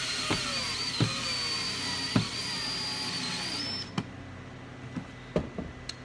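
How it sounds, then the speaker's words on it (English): A power drill driving screws to mount a part of a small off-grid solar panel system in a utility building, a rising whine that stops, then scattered clicks and knocks of handling. "So we're gonna mount these screws in right now"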